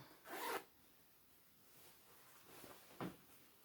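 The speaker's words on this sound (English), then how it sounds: "Let me zip in this." A zipper on a garment is zipped in two quick, quiet strokes, the first longer and the second a short pull near the end, heard close by with no talking.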